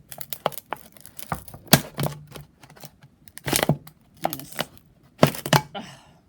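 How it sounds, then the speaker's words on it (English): Scissors snip and crunch through a thin plastic bottle in short, irregular bursts of sharp cracks and crinkles, close and alone, with pauses between cuts. "I'm going to take our handy dandy scissors."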